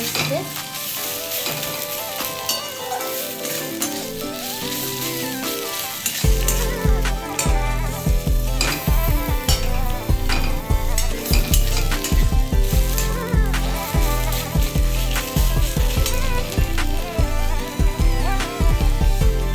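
Taro leaf paste fries and is stirred in a pan, a steady loud sizzle with scraping stir strokes that thicken into a dense, rhythmic churn after the first few seconds.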